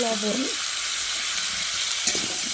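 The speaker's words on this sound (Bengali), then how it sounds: "লবণ আর হলুদ দিয়ে পাতাকপিটা লাল লাল করে ভেজে উঠিয়ে রাখবো।" Shredded cabbage fries in hot oil with salt and turmeric, a loud steady sizzle that hisses without a break from start to finish, with a brief scrape of stirring near the end.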